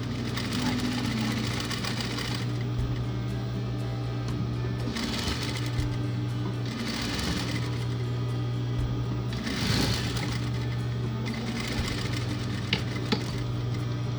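Sewing machine stitching through three layers of fabric on a decorative petal cushion, a steady running whir in several bursts with brief pauses between them, and a voice talking over the motor.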